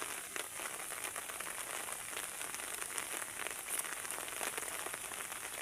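Rain pours steadily in the morning, a dense, even patter of drops striking surfaces with occasional sharper ticks. It continues without pause at moderate volume, and no voices are heard.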